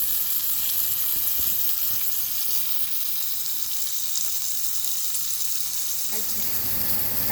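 Steak searing in a pan with a little butter and oil gives a loud, steady sizzle and hiss throughout, with faint talk and a few low knocks beneath it.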